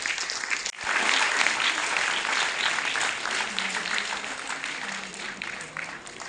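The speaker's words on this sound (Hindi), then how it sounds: "एक बार जोरदार तालियां" Audience applause at a cultural event held in honour of a chief guest, a full sustained burst of clapping that starts abruptly and continues loudly to the end.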